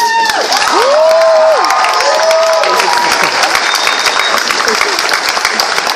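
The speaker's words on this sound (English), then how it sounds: "Big round of applause for Crispin" Convention Q&A audience applauding for Crispin, loud dense clapping and cheering from a large crowd, with a voice briefly calling out over it.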